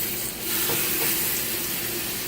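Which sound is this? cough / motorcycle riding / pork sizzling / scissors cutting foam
pork sizzling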